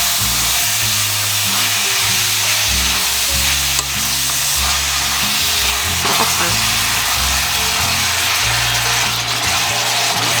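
Marinated gochujang pork hits a hot frying pan for stir-fried jeyuk bokkeum, giving a loud, steady sizzle and hiss throughout with stirring clatter layered under soft background music.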